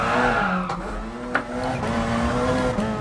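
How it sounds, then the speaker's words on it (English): A car in Gran Turismo Sport spins its wheels exiting a corner, the engine droning steadily at high revs with a brief squeal of tires, close and continuous. "I spun the wheels on the exit"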